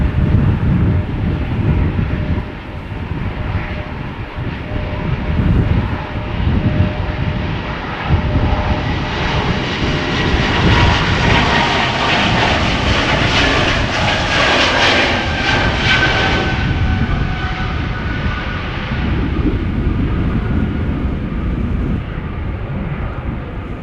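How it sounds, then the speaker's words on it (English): Helvetic Airways Embraer E2 (Embraer 190) jet taking off at Schiphol Airport, a steady, loud, rumbling engine roar with a rising whine that swells to a peak mid-way and then eases slightly, heard from a distance with no voices. "Helvetic Airways outbound Zurich. Embraer E2 Embraer 190."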